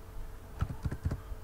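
Keys tapped on a computer keyboard while a number is entered into structural design software, a quick run of several close, crisp clicks with no talking.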